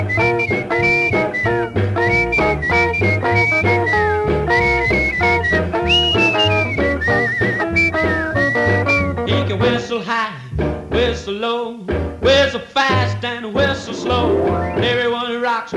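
Loud, melodic whistling carries a song, with sustained bright notes in a steady rhythmic phrase over a full band backing of drums and bass throughout.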